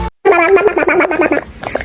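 A fish, the pink wrashu, making a short burst of warbling, gurgling chatter that resembles an infant babbling; close and clear, lasting under two seconds after a brief silence.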